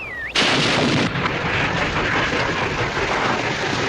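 An artillery gun firing in a TV war drama, one sudden loud blast that rolls into a long, heavy rumble, preceded by a brief whistling tone.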